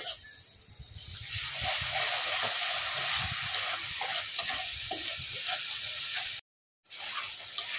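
Spice paste of coriander and cumin powder sizzles steadily in a hot pan after a splash of water is added, a dense, bright frying hiss with stirring scrapes, cut by a brief dropout near the end.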